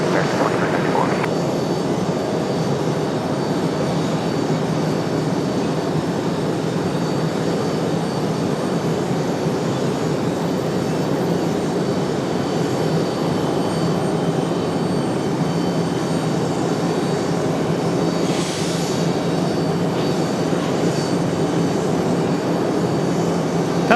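An airliner at Raleigh-Durham International Airport produces a steady, continuous jet engine roar at a constant distance for the whole stretch, with a faint voice briefly audible beneath it.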